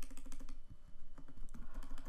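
Steady, fast typing on a computer keyboard while writing code in Android Studio, with close, crisp key clicks running throughout.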